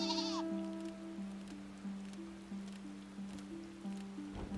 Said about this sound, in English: riding a little sheep while listening to the song is like how you do it